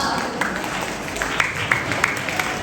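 An audience claps together at a church vacation Bible school final-day celebration, with the applause fairly steady and crisp at moderate distance and a faint voice underneath.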